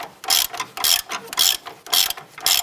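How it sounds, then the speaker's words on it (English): A hand ratchet runs bolts down on the front lower control arm of a 2008-2013 Nissan Rogue, giving loud, close bursts of rapid pawl clicking in about five even strokes with brief pauses between. "let's go ahead and put our ratchet on there. I'm going to get those bolts run all the way down."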